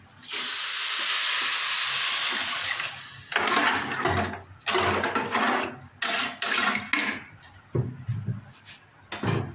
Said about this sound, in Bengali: চাল একটু ভেজে নিচ্ছি